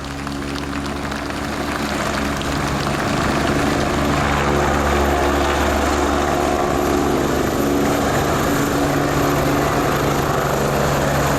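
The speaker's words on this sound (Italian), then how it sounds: "Ora l'Alfa 109 Nexus si avvicina al centro dell'area del display per l'ultimo saluto prima di lasciare la manifestazione." An Agusta A109 Nexus helicopter flies at an air show, its steady rotor thump and turbine whine loud and continuous, swelling slightly as it approaches the display centre.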